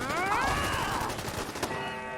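Automated turrets firing in Fallout 4, a dense rattle of rapid shots mixed with whining tonal game sounds, moderately loud and continuous through the short span.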